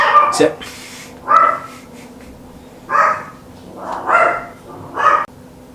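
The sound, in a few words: dog barking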